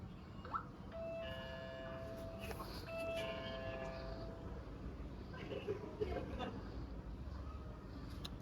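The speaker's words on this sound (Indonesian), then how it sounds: "Di bel dulu." A doorbell at a house sounds a sequence of clear electronic chime tones early on, repeating once, then fades into quieter room noise with faint voices toward the end.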